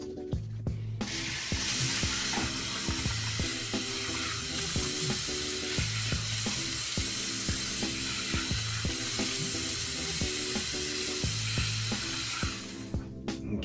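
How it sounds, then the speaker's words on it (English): Running water sprays steadily for about eleven seconds while a beard is washed with Victory Barber and Brand beard wash, with faint clicks and rubbing under the hiss before it cuts off. "As usual, I'm gonna wash my beard with the Victory Barber and Brand wash."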